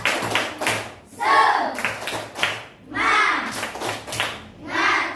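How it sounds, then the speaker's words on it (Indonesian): Children in a classroom do a rhythmic spirit clap, with bursts of patterned clapping and chanted voices alternating in short phrases, close and lively. "Tepuk semangat."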